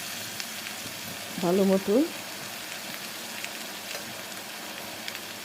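Vegetables sizzle and fry in a pan for a fish-head vegetable curry, a steady soft crackle with occasional stirring scrapes, while a voice speaks briefly over it.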